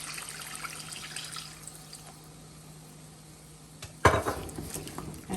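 Liquid is poured into a pot while making Guyanese sirnee: a quiet stretch with faint background hum gives way near the end to a sudden, close splash and gush of pouring.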